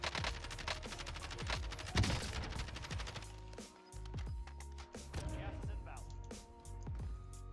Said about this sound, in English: Green building shooting me.